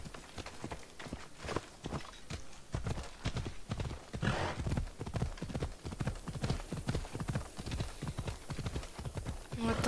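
A ridden horse walks along a trail, its hooves clip-clopping in a steady near rhythm for the whole stretch, with faint rustling in the background.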